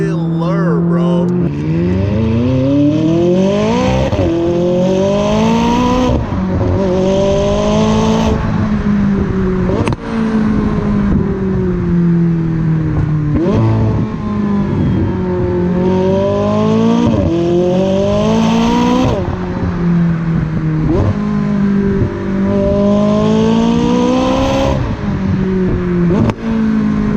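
A McLaren's engine roars through its top-mount exhaust, loud and close, revving up over and over in rising surges, each climb followed by a drop back before the next throttle blip.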